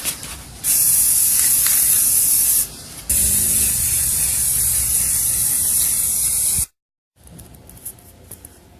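An aerosol can of paint and primer sprays onto a 3D-printed helmet in two long, loud hissing bursts separated by a short pause, then stops.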